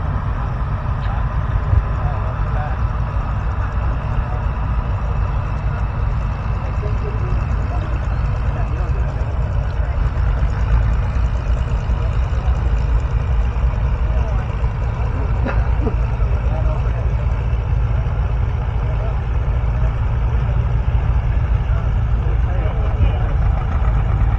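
At a tractor pull in Rollag, a tractor engine idles with a steady, loud low rumble that holds without change for the whole stretch, with faint voices in the background.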